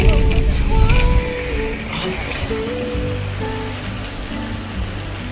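The Yamuna runs below snowy mountains on the trek to Yamunotri, its rushing water a loud, continuous roar, strongest in the first second and then steady throughout.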